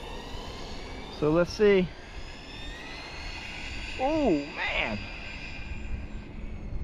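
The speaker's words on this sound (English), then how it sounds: "I like the way it sounds, like a jet." A Team Corally Asuga XLR RC buggy, a large electric basher running on a 6S battery pack, gives off a steady, jet-like motor whine that stays under two short bursts of a man's speech.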